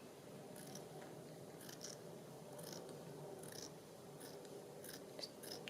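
Scissors snip at craft material for an owl and fairy project, giving a series of faint, crisp cuts spaced about a second apart over a quiet room.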